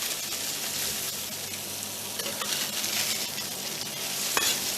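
Fish pan-frying in oil for seafood thermidor, a dense, steady hiss and crackle of hot oil close up, with a few faint scrapes and no talking.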